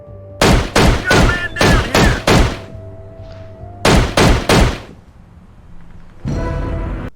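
Bursts of rifle fire on a military training range in America's Army, loud close shots in quick clusters of three and four with pauses between, followed by a denser rattle near the end.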